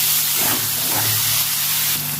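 Three green chillies, onion and tomato fry together in oil, a loud close hiss of steam and sizzle that holds steady for about two seconds.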